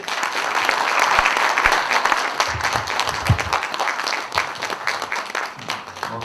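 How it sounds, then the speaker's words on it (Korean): At a labour union's general and representatives' meeting, the audience gives warm applause for two newly elected auditors, a dense, steady clapping that stays strong for several seconds with a few louder claps and thumps mixed in. "두 분 선출된 회계감사님께 뜨거운 박수 보내주시기 바랍니다."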